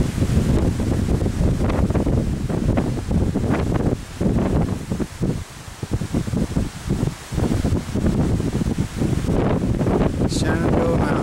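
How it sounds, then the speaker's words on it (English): Strong gusting wind batters the microphone on the summit of Old Rag Mountain in the Shenandoah area, a loud continuous roar with brief lulls, and someone speaks faintly beneath it. "you can see it's a really windy day today"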